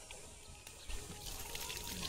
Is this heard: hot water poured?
yes